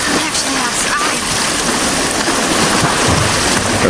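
Steady, loud rain pours outdoors in the video game The Last of Us, a dense, continuous hiss of falling water with no break.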